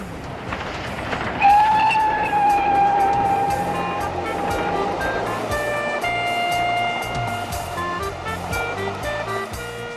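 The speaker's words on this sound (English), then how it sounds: "With a couple of steam engines in fine fettle" A Great Western steam locomotive express train rumbles steadily past with a loud, sustained whistle sounding over the roar, the clatter continuing after the whistle fades.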